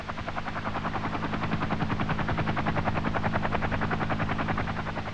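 A Chinook helicopter carrying an M54 launcher, its rotors giving a steady rapid thumping beat over a continuous engine whine, sustained and even, with no talking.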